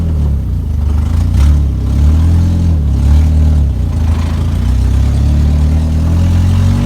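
A small car's engine runs steadily while being driven, a loud continuous low rumble with slight rises and falls in revs throughout, no talking.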